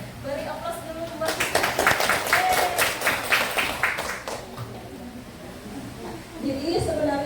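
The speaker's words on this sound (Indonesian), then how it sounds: "Beri aplaus dulu buat" Crowd applause for Darul Hijrah Putri at an SMA Darul Hijrah Putri school gathering: a burst of many hands clapping swells and holds for a few seconds, then fades back into a quieter room with voices around it.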